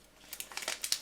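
Apple TV 4th generation packaging being unwrapped, with soft crinkling and rustling of plastic and paper in quick, uneven bursts, close and fairly quiet, with no talking.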